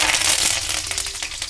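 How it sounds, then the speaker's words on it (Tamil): Mustard seeds, with fenugreek and curry leaves, crackle and pop in hot oil in a pan while tempering for a garlic tamarind curry, a dense run of close, sharp spluttering bursts. "கடுகு பொரிஞ்சோடனே"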